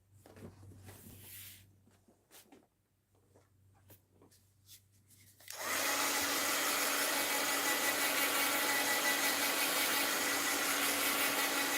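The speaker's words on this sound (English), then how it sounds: "Now let's hit that with the heat gun." A heat gun blasts hot air over a mixed-media art journal page of crunchy papers, switching on partway through as a loud, steady broadband roar after quieter paper handling and small taps.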